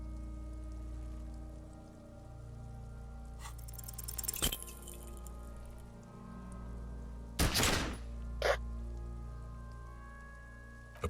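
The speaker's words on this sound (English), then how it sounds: "A plume of smoke erupts from the barrel. Your hand goes numb from the explosion." Pistol gunshot in Disco Elysium, a single sharp crack in the middle of a low, steady game ambience, with a few softer clicks and clinks before and after it.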